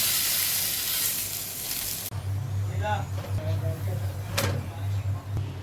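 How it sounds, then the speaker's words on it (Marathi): A chapati sizzling on an oiled frying pan, a strong, steady hiss that suddenly softens partway through, followed by a lower crackling fry with a hum underneath and a few sharp scrapes. "त्यावर आपण ही चपाती ठेवून घेऊ आणि दोन्ही साईडने आपल्याला लाल कलर येईपर्यंत भाजून घ्यायची."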